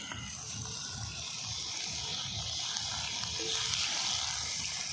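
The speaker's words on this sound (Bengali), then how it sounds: "আমি এবারে জল দিয়ে দেবো" Cold water is poured steadily into a pan of spiced chicken curry, a continuous gushing hiss that holds at an even loudness with little else around it.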